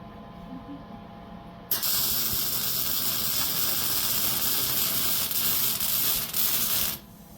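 Welding at a home garage build of a compact engine run stand, a loud steady crackling hiss that starts abruptly, holds for about five seconds, then stops, over a low background hum.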